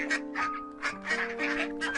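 Cartoon ducklings quack in quick, bright bursts at a pond beside a village house, a steady run of squeaky calls close up.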